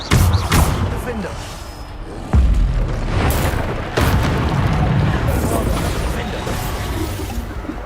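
Bombarda explosion spells going off in a wizard video game, several loud booming blasts with rumbling tails, separated by pauses and spoken over.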